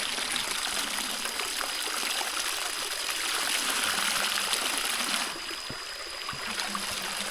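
Water is scooped with a bowl and poured to wash arms and legs in a rural village. It makes a continuous trickling, splashing flow at close range that softens slightly toward the end, with no voices.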